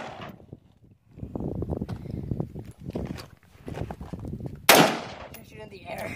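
A single loud, sharp gunshot from an M1911 pistol or AR-15 rifle cracks out near the end, preceded by people talking.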